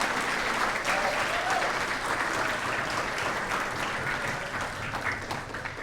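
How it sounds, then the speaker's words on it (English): An audience at an athletic hall of fame induction ceremony applauds steadily, a dense wash of clapping that holds for several seconds before thinning slightly at the end. "I would ask for a nice round of applause for Debbie"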